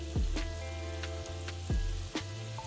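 Chicken pieces frying in hot oil for orange chicken, a steady close sizzle with occasional sharp pops and light clatter, no voices.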